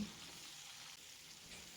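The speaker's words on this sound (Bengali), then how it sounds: "পেঁয়াজ আর রসুনটাকে একসাথে ভেজে নেব তিন থেকে চার মিনিট সময় ধরে" Chopped onion and garlic sizzle in oil in a pan, a steady, quiet hiss with faint stirring, heard alone and at low level.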